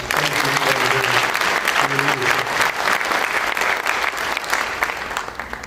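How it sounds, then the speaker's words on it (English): Audience applause at a Chicago press conference on community violence intervention, steady dense clapping filling the room for several seconds, with some voices briefly audible underneath. "Could you give him a round of applause?"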